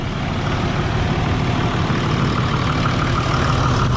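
Diesel truck engine idling steadily with a smooth, even low rumble after an injector fix, loud and continuous with no talk.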